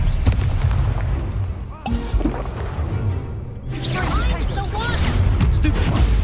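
Confringo spell explosions from the Hogwarts Legacy video game: heavy booming blasts and crackling bursts that fill the whole stretch, loud and dense, with a short dip near the middle and shouting voices mixed in.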